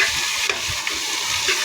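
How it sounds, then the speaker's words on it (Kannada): Ingredients fry in a pan of ghee for ghee rice with a loud, continuous sizzle. Brief clinks of stirring come through along with it, and nobody speaks. "ಚೆನ್ನಾಗಿ ಫ್ರೈ ಮಾಡಬೇಕು."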